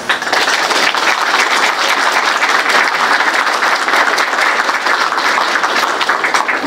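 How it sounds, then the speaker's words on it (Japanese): A full hall gives a big round of applause to the lecturer Yamazaki at the close of a fire department staff training session, loud, dense and steady throughout with no gaps. "それでは本日講師の山崎様に今一度大きな拍手をお願いしたいと思います。"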